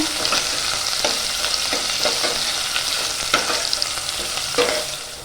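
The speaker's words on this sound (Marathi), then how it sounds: "आणि बारीक चिरलेला कांदा पण टाकूया कांदा ना नरम होईपर्यंत आपण परतून घेऊया" Finely chopped onion with a bay leaf sautés in hot oil in a pan, a continuous close sizzle punctuated by regular scraping strokes of a spatula stirring the pieces.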